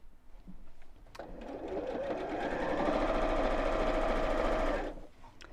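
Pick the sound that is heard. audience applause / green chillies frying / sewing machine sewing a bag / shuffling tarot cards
sewing machine sewing a bag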